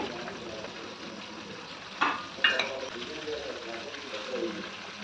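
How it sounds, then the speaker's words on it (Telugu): Mustard seeds, urad dal, curry leaves, dried red chillies and garlic hit hot oil as a tempering for bachali leaf dal. A soft, quiet sizzle runs throughout, broken by a couple of sharp clatters near the middle. "తాలింపు వేసుకుందామండి పప్పుకి."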